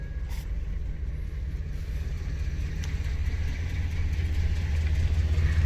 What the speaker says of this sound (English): Old truck doesn't sound so great there.